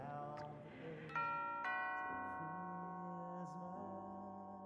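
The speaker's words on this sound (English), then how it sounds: "Why don't you ring the doorbell?" A house doorbell chimes a short sequence of ringing tones, stepping down in pitch and then lingering, fairly faint against a quiet room at Christmastime.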